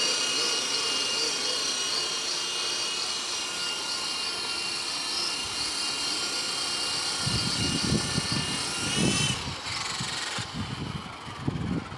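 An MJX F46B RC helicopter flies nearby with a steady high-pitched motor whine and rotor buzz that holds throughout, with some lower rumbling bursts near the end.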